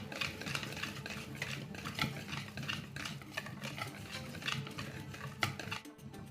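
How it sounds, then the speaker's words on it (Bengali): Chocolate cake batter with a pinch of salt being stirred in a bowl, a close, steady run of scraping and tapping strokes against the sides, with no talk. "আর সামান্য একটু লবণ দিয়ে ভালো করে মিশিয়ে নেব।"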